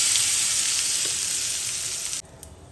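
Cumin seeds crackling and sizzling in hot oil with asafoetida for a tempering, a bright steady sizzle that cuts off abruptly, leaving a faint quiet tail.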